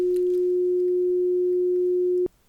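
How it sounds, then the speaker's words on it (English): A single steady, pure electronic beep from a hearing test sounds alone for about two seconds, clean and unbroken, then cuts off into near silence. "let me know when you hear the beep sound"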